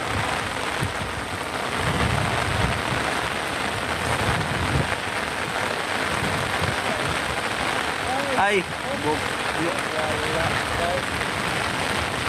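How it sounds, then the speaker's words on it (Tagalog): Heavy rain pours steadily on a flooded area where crab traps are set, a dense continuous wash throughout, with people talking over it. "Lakas ng ulan."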